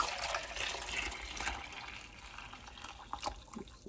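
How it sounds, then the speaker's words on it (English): Cooking liquid for a Philadelphia pork sandwich pours steadily into a 4-cup measuring cup, a continuous close splashing gush that fills the whole stretch. "I'm going to pour this liquid"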